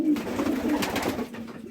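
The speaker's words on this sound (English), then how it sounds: "A little bit of an update on the pigeons in the stock loft." Pigeons cooing in a stock loft, a close, loud, throaty warbling coo with soft rustling around it and no speech.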